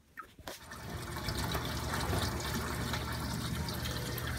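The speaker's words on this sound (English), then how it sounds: "I'm going to just dump all this water into the sump." Water is dumped into a saltwater aquarium sump, a brief splash and then a continuous rushing, gurgling pour that holds steady and close, with no voices.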